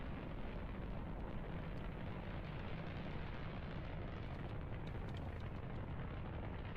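Spacecraft explosions in the video game Kerbal Space Program form a loud, continuous roaring blast that holds steady throughout, with no talk over it.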